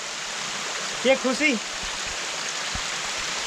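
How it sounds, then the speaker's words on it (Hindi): Monsoon rainwater cascading down the stone steps of Korigad Fort near Lonavala, a steady broadband rush throughout, with a brief spoken phrase in the middle. "सीढ़ियों से पानी गिर रहा है"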